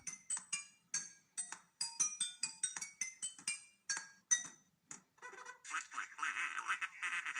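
A person imitates duck quacks with a rapid run of short, nasal, clicky calls, pausing briefly before a denser burst of quacking.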